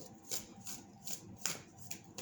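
A deck of tarot cards is shuffled by hand in soft, rhythmic riffles, roughly five quiet bursts of papery rustling at close range, with no talking.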